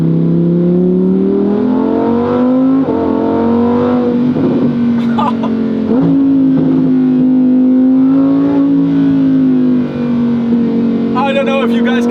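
Lamborghini Huracán Performante engine droning and revving steadily while driving, with pitch rising and falling across gear shifts, loud and close throughout, with a person talking over it.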